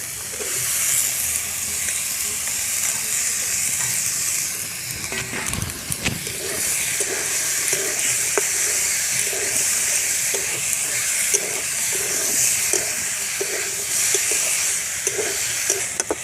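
Chicken meat hits hot, well-fried masala for chicken ghugni, giving a strong, continuous sizzle and hiss with occasional stirring scrapes and clinks close by.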